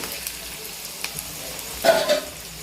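Onions sautéing in a pan for paneer butter masala, a soft steady sizzle broken by a few spatula taps and a louder stirring scrape near the end, close by.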